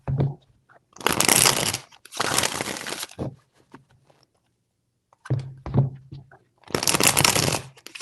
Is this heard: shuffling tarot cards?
yes